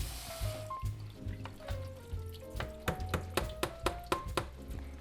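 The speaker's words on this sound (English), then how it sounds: "So we always wash it again. Give it a fresh dose of water." Tap water running and splashing over pre-washed salad greens in a kitchen sink, a steady close stream with rhythmic splashes and trickles as the leaves are rinsed, no talking.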